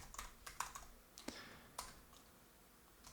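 Light, quiet typing on a computer keyboard while entering text during desktop app development: a short, irregular run of soft key clicks over faint background hiss.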